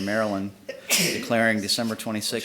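One sharp sneeze breaks into a resolution being read aloud at a city council meeting in Salisbury, Maryland, a brief burst in the middle of steady speech in a room.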